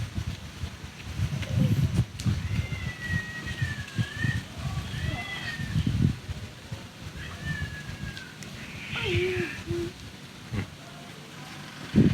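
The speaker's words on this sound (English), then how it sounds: "You hear the kitty?" Faint, high cat meows drift over a rustling, windy outdoor background in Ban Tai, Kanchanaburi, Thailand, with a few scattered calls spread across the stretch.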